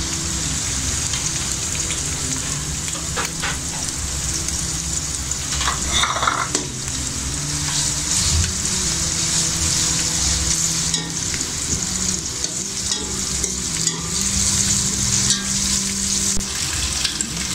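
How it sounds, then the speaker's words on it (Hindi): Chicken fries in oil or ghee with a steady, close crackling sizzle that runs the whole time, broken by a few scrapes from stirring. "थोड़ा सा इसमें ऑयल या घी, इसमें चिकन डाल दूँगी"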